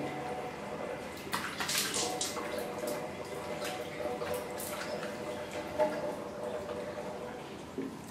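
Face being washed with water and face wash gel, soft splashing and dripping close by with wet rubbing, running water in the background.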